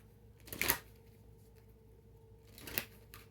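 Tarot cards are shuffled in two short, crisp riffling bursts with a quiet pause between them, close to the microphone in a quiet room and with no talking.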